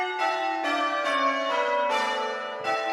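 A light sixth-note ding tone struck several times in a row, each strike ringing with bright bell-like overtones and fading before the next; fairly close and quiet, with no talking.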